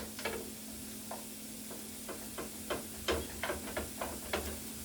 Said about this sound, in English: once the eggs are scrambled